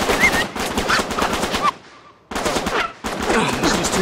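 Rapid, loud gunfire rattles in dense bursts during an Uncharted 3 firefight with snipers, broken by a short lull before the shooting resumes.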